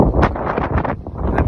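Strong wind gusting across the microphone outdoors at Burgos, Ilocos Norte, a steady loud buffeting rumble with rustling bursts throughout.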